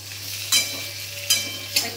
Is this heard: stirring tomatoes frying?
yes